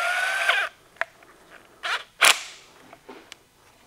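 Tightening a left-hand-thread part during a BMW E36 VANOS rebuild, with a few sharp creaks and metallic clicks, including a louder grinding creak near the middle and scattered quieter ticks, close and without talk.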